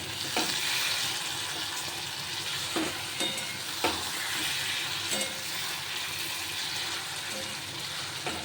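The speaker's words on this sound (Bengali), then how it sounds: "ভালো করে মশলার সাথে মিশিয়ে নিচ্ছি মাংসটা।" Chicken being stirred and fried with spices in a pot for chicken biryani, giving a constant bright sizzle broken by occasional spoon scrapes and knocks, close up and without any talking.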